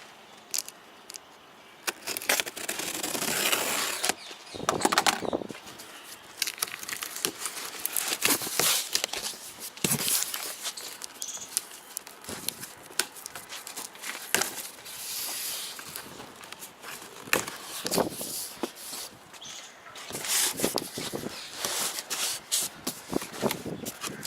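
Cardboard boxes and plastic wrapping around Enkei NT03RR aluminium racing wheels being opened, with continuous close crinkling, rustling and tearing in bursts, no talk.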